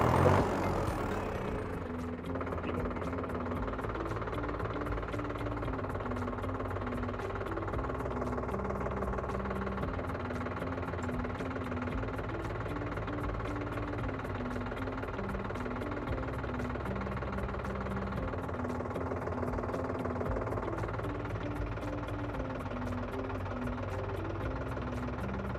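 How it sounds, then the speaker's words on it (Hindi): A Solis tractor's diesel engine cranks and catches, then settles into a steady, knocking idle with an even rhythmic pulse, close and continuous with no talk. "हमेशा जो है सुरक्षा के लिए हमें क्लच दबा के ही ट्रैक्टर को स्टार्ट करना चाहिए।"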